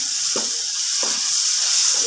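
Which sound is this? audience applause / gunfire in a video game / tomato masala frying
tomato masala frying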